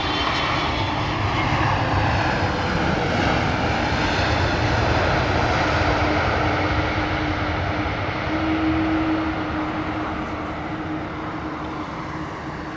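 An Air Canada Boeing 777 landing at London Heathrow, its engines giving a steady, loud broadband roar with a faint whine that slowly fades near the end.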